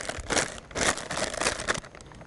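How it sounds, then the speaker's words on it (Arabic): Nylon plastic bag crinkling and rustling as it is handled for use as a piping bag for cream cheesecake ice cream mixture, several close bursts of crackly crumpling over a couple of seconds. "لسهولة بس الاستعمال أنا ححطها في كيس من كيس النايلون أو أي الأكياس اللي بنستعملها كقمع."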